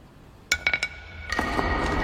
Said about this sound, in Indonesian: Dan terdengar suara batu kristalnya.